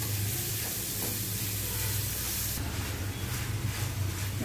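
A prawn cutlet mixture with onion, corn and coriander sautés in a pan, making a steady, close hissing sizzle with faint stirring, which brightens and intensifies partway through.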